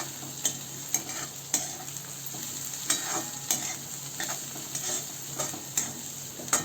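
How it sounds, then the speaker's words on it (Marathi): Tomatoes stirred in a pan over low gas with turmeric, garam masala and coriander for besan bhurji: soft frying crackle punctuated by repeated quiet spatula scrapes and taps at an irregular rhythm, with no talking. "हे छान मिक्स करून घेऊ."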